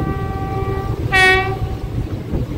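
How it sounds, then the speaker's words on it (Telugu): Two trains passing at once near Gudur junction on the Chennai–Vijayawada main line, a loud continuous rumble with a prominent horn blast in the middle, close by. "2 ట్రైన్స్ ఒకేసారి వెళ్తున్నాయి."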